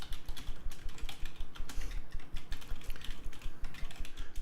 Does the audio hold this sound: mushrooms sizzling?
no